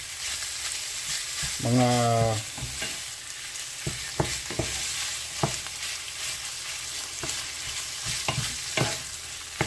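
Ground pork sizzling in a frying pan with zucchini for ginisang zucchini, with steady frying crackle, stirring scrapes and clatter, and a brief voice speaking near the start.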